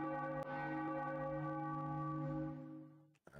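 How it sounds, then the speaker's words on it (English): A bell sound effect in an RPG Maker MZ game rings once, a clear church-like bell strike with a long, resonant, slowly fading sustain. "we get a bell for that one"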